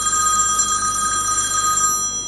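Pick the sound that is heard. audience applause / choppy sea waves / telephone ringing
telephone ringing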